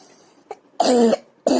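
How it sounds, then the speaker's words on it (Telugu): A boy coughs in short bursts: a faint cough, then two loud, harsh, close-up coughs separated by a brief pause, with no talking. "మా బాబు దగ్గుతున్నాడు అనమాట దగ్గేటప్పుడు కూడా వాడు వీడియో ఆఫ్ చేయడు"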